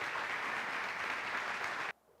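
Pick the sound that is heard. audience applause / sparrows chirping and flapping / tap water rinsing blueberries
audience applause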